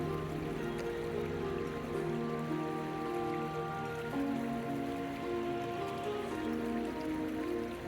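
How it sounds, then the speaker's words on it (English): A babbling brook on Dartmoor moorland gives off a steady, busy patter of water over stones, even and continuous, heard up close with no voices. "As we follow this stretch of babbling brook"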